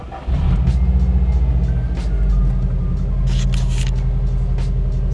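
A Subaru engine cranks and fires for its first start after an oil fill, then settles into a loud, steady low rumbling idle close by.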